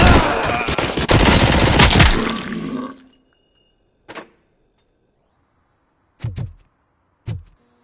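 Dense, loud gunfire bursts in the video game Robocop: Rogue City for about three seconds, then silence broken by three short, separate shots or impacts.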